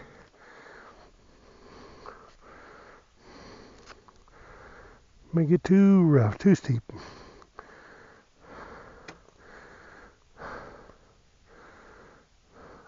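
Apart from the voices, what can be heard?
heavy breathing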